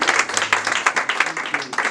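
A church congregation applauds during a sermon, a brief burst of dense, lively clapping close by.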